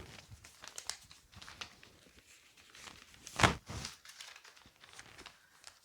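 A paper will crinkles and rustles as it is slid into an envelope, with one louder crumpling burst midway amid soft handling noises close to the microphone.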